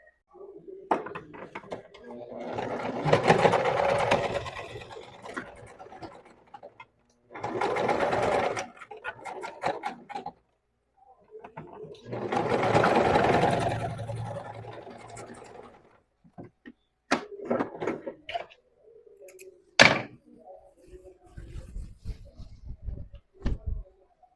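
Domestic sewing machine stitching a 1 cm seam allowance, running in several long bursts of steady whirring separated by pauses, followed by scattered clicks and handling knocks of fabric and tools at close range.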